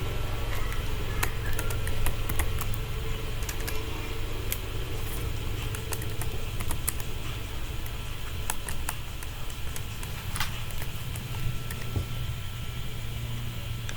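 Typing on a computer keyboard while data is entered into an operations research application: light, rapid, irregular key clicks over a steady low hum, fairly faint and close.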